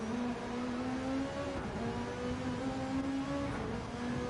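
A racing car engine in a video game droning at high revs against the rev limiter, a steady buzzing tone with slight pitch wobbles, held continuously at moderate level with no talk.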